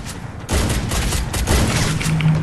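Dense bursts of rapid gunfire from the Free Fire battle royale on the Bermuda map, sniper play included, loud and near and running almost unbroken after a brief quieter start.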